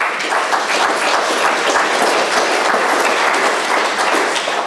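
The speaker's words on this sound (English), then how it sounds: "Round of applause, please." Conference audience applause after a geoscience talk, a steady dense patter of many hands clapping at even loudness throughout, with no talk.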